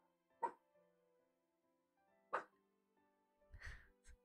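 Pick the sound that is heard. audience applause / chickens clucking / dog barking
dog barking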